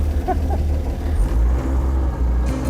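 A 1950 GMC truck's engine runs as the starter is held down, a steady low rumble dominating throughout, with a few faint knocks and hisses above it.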